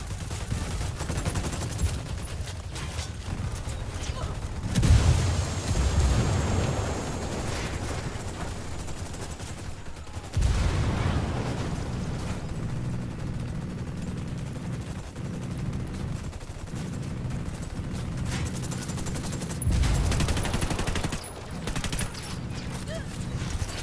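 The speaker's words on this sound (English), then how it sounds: "Escort destroyed. That thing's gonna explode." Gunfire and a heavy blast in the Ghost Recon Wildlands video game, with bursts of rapid shots and booming impacts recurring across the stretch, loud and dense, with voices talking over parts of it.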